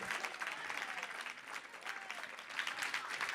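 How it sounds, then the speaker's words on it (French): Audience applause for writer Guy Lalancette at a tribute broadcast: soft, steady clapping from a modest crowd, heard at a fairly low level and continuing throughout. "je veux qu'on applaudisse Guy Lalancette"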